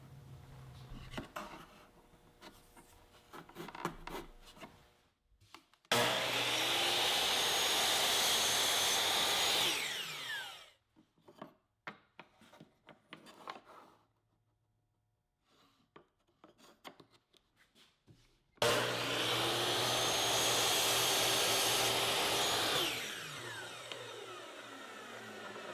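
Miter saw cross cutting small wood pieces for an entryway table, two loud spinning whines of about five seconds each, separated by clattering wood handling and a stretch of near silence, with no voices.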